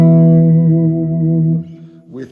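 A deep, heavily distorted Reverend Pete Anderson baritone Telecaster chord rings out through an amp, sustaining with slight wavering before cutting off, followed by a brief low note.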